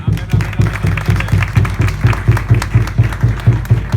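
A crowd claps in a steady, rhythmic beat, the claps falling evenly in time with voices mixed in.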